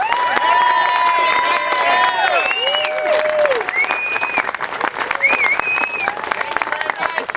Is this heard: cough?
no